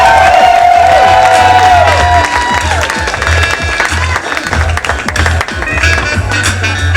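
A crowd at a pin-up contest show cheers and applauds the contestants, with loud, sustained clapping, whistles and scattered shouts that swell and dip over several seconds.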